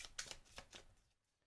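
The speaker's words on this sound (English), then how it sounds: "So shuffle these up." Marvel Champions playing cards are riffled in a few quick, soft bursts close by, then the sound fades to quiet.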